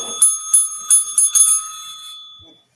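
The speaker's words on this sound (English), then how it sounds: "That's what the bell's for. I like the bell." A small bell rung by hand, about five or six bright metallic dings in quick succession, loud and close, then a ringing tail that fades out with no voices.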